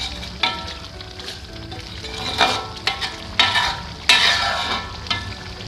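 Balinese basa genep spice paste frying and being stirred in a pan, a continuous sizzle broken by repeated scraping strokes and bursts of spatter, close up, no talking.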